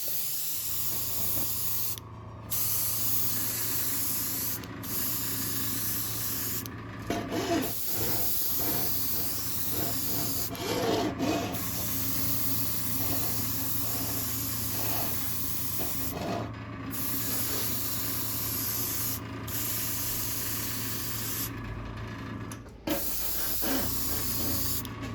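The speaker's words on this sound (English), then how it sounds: "I'm going to add some snakebite leather. Use my airbrush." An airbrush spraying snakebite leather paint hisses steadily and closely for most of the stretch, with a constant compressor hum underneath and brief pauses where the trigger is released, alongside faint rubbing sounds.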